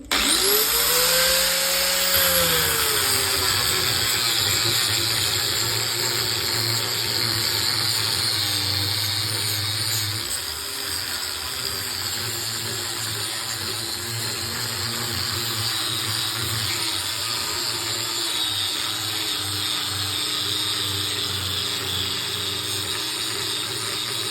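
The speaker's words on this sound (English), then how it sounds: "Then I do it with the sander over there, look." Power sander smoothing deep grooves and burn marks out of natural wood, a loud steady motor whine and buzz that runs continuously, easing slightly partway through, with no talk.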